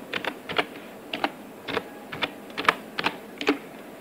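Data being typed on a computer keyboard: a quick, irregular run of close, crisp key clicks in small clusters over about four seconds, with no voices.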